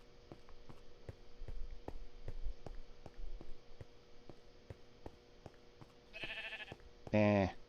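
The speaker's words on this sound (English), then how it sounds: "Lots of sheep around." Minecraft sheep bleating, two short wavering bleats near the end, the second louder and closer, over a faint hum with regular soft ticking clicks beforehand.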